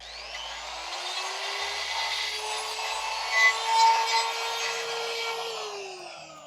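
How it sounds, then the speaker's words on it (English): A Vevor die grinder with a carbide bit ports an aluminum intake manifold from a Mazdaspeed 3 engine, a steady high whine with rasping metal grinding, close and continuous, no talk. "I got this Vevor grinder off Amazon. Plus I got also some carbide bits"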